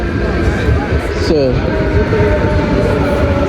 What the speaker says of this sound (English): So this is the train coming.